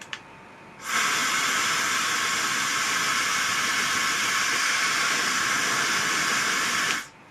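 A Simplus high-speed hair dryer switches on and blows a loud, steady rushing hiss for about six seconds, then shuts off abruptly.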